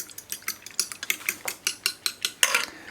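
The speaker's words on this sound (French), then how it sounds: "Ici, je viens battre donc les œufs avec la cuillère à soupe de lait." Eggs beaten with a spoonful of milk in a bowl: a steady run of quick, bright clinks and scrapes of the utensil against the bowl, close and fairly loud, with no talking.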